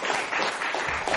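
A church congregation's applause during a Spanish-language service, a dense continuous wash of many hands clapping at once, steady and moderately loud with no talk over it.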